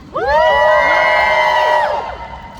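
A concert audience roars with shouts, whoops and cheers in one loud, sustained burst that swells quickly and fades out after about two seconds.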